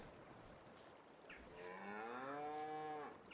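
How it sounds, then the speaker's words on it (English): A cow moos in Farming Simulator 22, one long drawn-out call rising and holding for about two seconds, moderately loud over faint ambient farm background. "We now have some cows officially on the farm."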